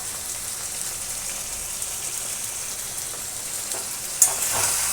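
Spice paste with tomato, salt and turmeric sizzles and fries in a pan for a hilsa fish and potato curry. A steady, crackling hiss runs throughout, with a brief louder spatter near the end.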